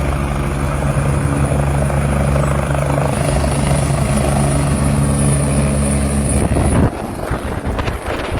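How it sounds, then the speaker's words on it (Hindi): A helicopter in Uttarakhand takes off and wobbles in flight, its loud, steady rotor and engine roar close by, changing sharply near the end as the craft dips. "वीडियो में साफ दिख रहा है कि हेलीकॉप्टर पहले ऊपर उड़ान भरता है और फिर डगमगाकर नीचे की ओर आ जाता है।"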